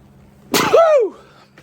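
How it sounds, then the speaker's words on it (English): A single loud sneeze bursts out close by, a sharp intake followed by a forceful explosive release that trails off quickly. "I'm going to sneeze, hang on a minute."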